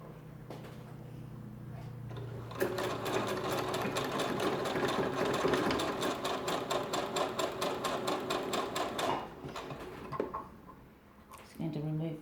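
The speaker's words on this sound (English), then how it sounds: "this is just a standard straight stitch that I'm going to run all the way down" Sewing machine running a standard straight stitch down the side of underwear, a fast steady needle chatter that starts after a quiet moment and runs for several seconds before slowing and stopping, close by with faint talk around it.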